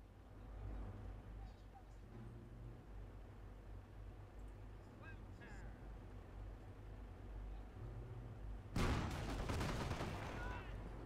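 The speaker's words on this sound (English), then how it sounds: "Explosion up the right hand side." Distant battle noise rumbles in the Company of Heroes video game, with scattered gunfire and then a sudden loud explosion late on that swells and lingers, and voices are heard.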